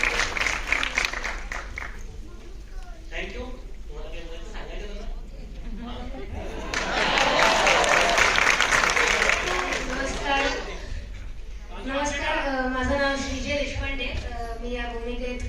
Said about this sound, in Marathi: त्यांच्यासाठी देखील जोरदार टाळ्या